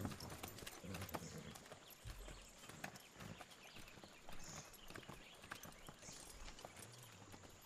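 Horse hooves clip-clop at a walking pace in the video game Far Cry 6, a steady rhythmic series of hoof strikes heard fairly close but quietly, alone without speech.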